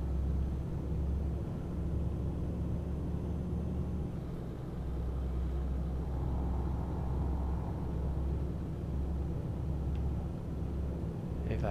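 A truck in Euro Truck Simulator 2 rumbles steadily as its engine drives on through the night, a low continuous drone at moderate level with no voices.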